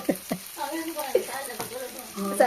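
Onions for biryani fry in a wok in a home kitchen. Oil sizzles and crackles softly in the close foreground while voices talk over it.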